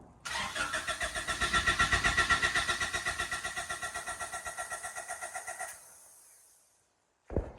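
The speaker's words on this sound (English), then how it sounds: "Starter fluid? Ready? Yeah, start it." A Honda Prelude second-generation car engine, dosed with starter fluid, cranks with a rapid, rhythmic chugging for several seconds, then dies away, followed by a brief loud burst near the end.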